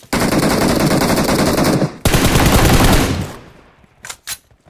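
Automatic gunfire in the mobile battle royale game PUBG Mobile: two loud, sustained bursts of rapid shots back to back, fading into a tail, followed by a couple of quieter short shots.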